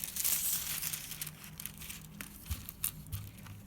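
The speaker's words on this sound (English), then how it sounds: "let's put some golden foil on it" Gold foil crinkles and rustles as it is handled and pressed onto glued edges of a wooden tray, with soft crackling bursts, quiet scrapes and a few dull taps up close.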